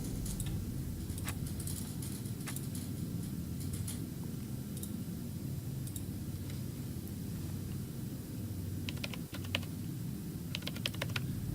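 Rapid, steady typing on a computer keyboard in the video game Still Life 2, with crisp clustered key clicks over a constant low background hum, no talking.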